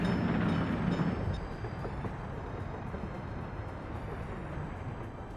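A train in the city-building game Workers & Resources: Soviet Republic gives a steady low rumble of rolling wagons, fairly loud at first and then easing off slightly, with no talk over it.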